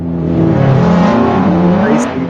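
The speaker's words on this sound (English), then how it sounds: "racing car, which is passing and disappearing" An AI-generated racing car roars loudly past, its engine pitch sweeping downward as it passes and then fading away, heard alone without voices.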